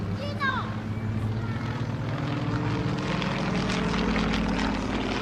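A Yak-52 aerobatic propeller aircraft flies a display with a continuous droning engine at moderate distance, while a commentator talks over it.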